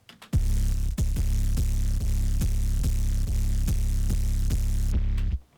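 A heavy, distorted dubstep sub bass drones continuously, with sharp rhythmic pulses roughly every half second and a gritty buzzing edge, ending abruptly.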